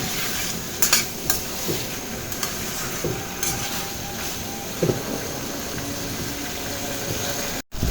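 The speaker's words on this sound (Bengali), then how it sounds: "কলিজাটা মশলার সাথে একটু মিশিয়ে নেব।" Liver is stirred with spices in a frying pan for kolija bhuna, a steady sizzle running beneath repeated scrapes and clacks of a spatula, close and moderately loud, with no one speaking.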